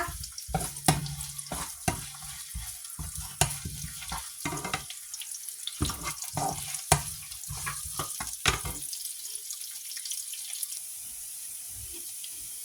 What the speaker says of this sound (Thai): ใส่หอมกับกระเทียมลงไปนะคะเพื่อนๆค่ะ พัดให้หอมค่ะทุกคนพัดให้เหลืองนะคะ